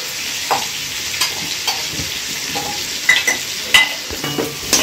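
A pot of mutton biryani with egg, potatoes and garam masala is stirred with a spoon, producing scattered scrapes and clinks over a faint, low frying hiss.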